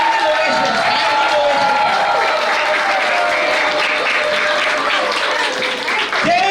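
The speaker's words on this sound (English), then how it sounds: "So let's all give a big round of applause" Sustained audience applause and a standing ovation at a Bhagavata Saptaham gathering in Mathura, dense steady clapping filling the whole span with crowd noise, easing slightly near the end.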